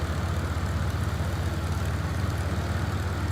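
A light aircraft engine in Microsoft Flight Simulator 2024 runs up to about 1,000 RPM, giving a steady, loud propeller drone with a low pulsing throb that holds even throughout.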